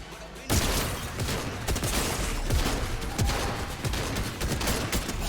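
Rapid gunfire crackles through a video game match, a dense run of sharp shots and bursts at moderate distance, carried continuously over busy background noise.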